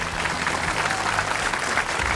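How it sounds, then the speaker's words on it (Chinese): A studio audience at the Liaoning TV dating show Perfect Confession applauds the observer panel, a steady wash of clapping from the crowd, fairly close and continuous throughout. "同样热烈的掌声送给我们年代团的观察员们"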